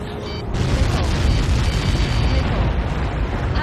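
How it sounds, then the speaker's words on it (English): Missile blast in the combat flight game Ace Combat 7: a loud, rumbling explosion erupts after a brief quiet moment and roars on in a dense, sustained boom. "How many got caught in that explosion?"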